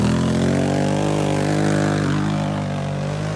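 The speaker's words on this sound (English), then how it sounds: "I am having so much fun going out and riding the quad around" A quad bike engine running close by, a loud steady droning hum with a slightly falling pitch, no voices.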